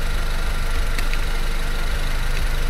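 A car engine idles steadily and loudly, up close, with a constant low rumble and no break in the running.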